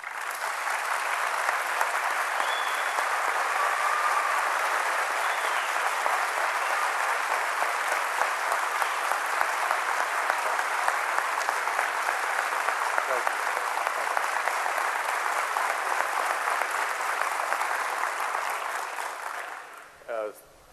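An audience applauding at a campaign event at a university, with sustained loud, dense clapping that fades out at the end.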